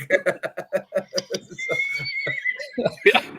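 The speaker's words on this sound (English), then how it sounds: "hear the horse back there yelling" A horse neighs and whinnies in the background, a rapid series of pulsing cries that sound almost like laughter, with a person talking over part of it.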